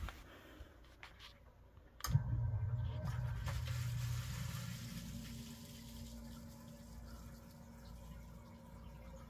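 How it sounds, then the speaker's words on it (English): A garden hose pours water into a basement sump pit: after a sharp click, a steady splashing rush begins and then settles into a lower continuous flow, close by and without talk. "I've got a garden hose running into the sump pit"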